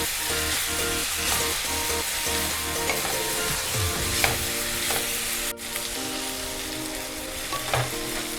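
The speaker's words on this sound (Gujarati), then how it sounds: "तो डूंगળી આપણે હલકી બ્રાઉન થાય ત્યાં સુધી હલાવશું" Sliced onions frying in a pan for a Gujarati seti fish dish, stirred until light brown: a steady close sizzle with repeated scraping stir strokes and occasional clinks, no voices.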